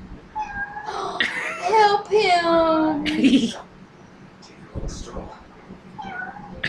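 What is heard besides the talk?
kitten meowing in video game Final Fantasy XV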